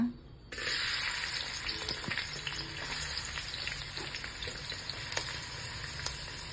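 Chopped onions dropped into hot oil for a bidiru or kalale palya give a sudden loud hiss and then settle into a steady, close frying sizzle with small crackles.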